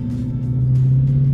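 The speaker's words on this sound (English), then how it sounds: "so now give it gas again" A car with paddle shifters accelerates, its engine drone rising and holding loud and close under the cabin, with a few faint higher bursts over the steady rumble.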